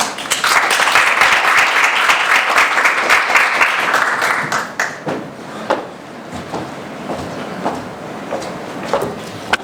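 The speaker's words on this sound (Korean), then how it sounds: "큰 박수로 맞아주세요." A forum audience gives a loud, dense round of applause as a speaker is welcomed, then it thins into scattered claps that trail off toward the end.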